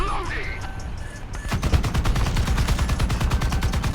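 Tank cannon and gunfire in the mobile combat game War Thunder Mobile, aimed at a Churchill tank: after a quieter opening, a sudden loud barrage of rapid, regularly spaced shots pounds on continuously, dense and close.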